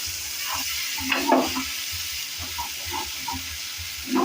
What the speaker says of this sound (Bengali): দেন আমি এই মশলার পেস্টটাকে খুব ভালো করে কষাতে হবে